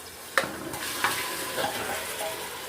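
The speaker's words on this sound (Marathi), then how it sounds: "मटण हळद लावून घेतलेले तर ते इथे मिक्स करून घ्यायचे आहे" Turmeric-coated mutton, rubbed with ginger-garlic paste and salt, is stirred in a hot pan, with a steady sizzle broken by a few sharp scrapes and clinks of the spoon against metal.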